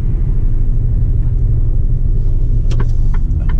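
A truck rolls along a road near Neukloster, its engine giving a loud, steady low rumble heard from the cab, with a few faint clicks and rattles toward the end and no talking.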